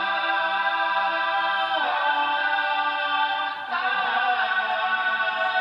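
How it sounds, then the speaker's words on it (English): Several sustained vocal tones layered into a smooth choir chord, shifting pitch twice and holding steadily with no other sounds. "I did some choir stuff, it's gonna sound like this"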